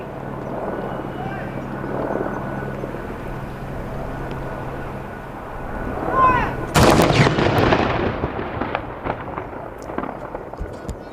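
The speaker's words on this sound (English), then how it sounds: "And so we have 6 guns there and they're firing in turn." King's Troop field guns fire a ceremonial gun salute in turn, one loud booming report crashing in after a stretch of murmuring crowd and ambient noise, with the blast echoing and fading away.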